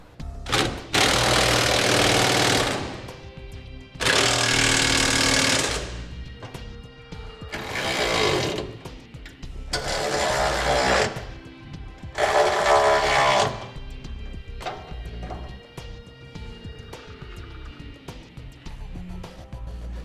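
Power tool tightening gooseneck hitch mounting bolts on a 2001 GMC Sierra, five loud bursts of buzzing, rattling impact sound separated by short pauses, close and alone.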